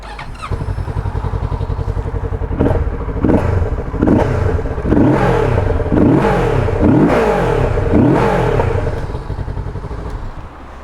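A Kawasaki Z650RS motorcycle engine starts and idles with a close, throbbing pulse, then gets several sharp revs that rise and fall before it settles back to idle.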